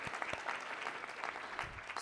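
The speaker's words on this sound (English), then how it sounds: "let's just give him another round of applause" Applause from the audience at a policy panel discussion on electricity, steady clapping for about two seconds at moderate, fairly distant level with no talk over it.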